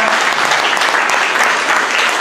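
A dense burst of audience applause fills a ceremony hall in Poggiardo during a certificate presentation, loud and continuous from start to finish with no voices standing out.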